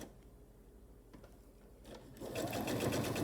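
A sewing machine stitching a quarter-inch quilt seam for a square-in-a-square block, starting with a few quiet clicks and then running in a loud, fast, steady whir for the final second or so.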